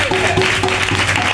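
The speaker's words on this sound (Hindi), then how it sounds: "देखो उसके भाई के लिए ताली बजा" Clapping from a church congregation at a Sunday service, dense and steady throughout, with a low hum and murmured voices mixed underneath.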